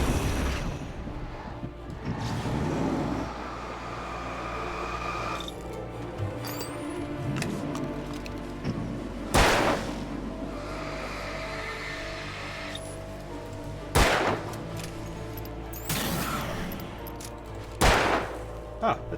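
A gun fires in the video game Alan Wake: several sharp, loud shots spaced apart over a low ambient game rumble and mechanical noises, with occasional talk.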